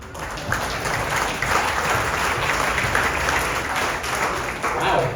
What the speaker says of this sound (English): Wow, some of you guys clapped pretty hard there.